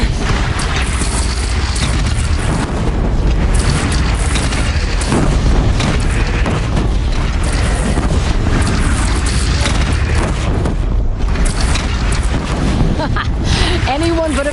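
Cannon fire in a PlayStation 4 video game naval battle, with heavy rumbling booms and explosions layered over constant wind and water noise, loud and dense throughout, with people talking over it.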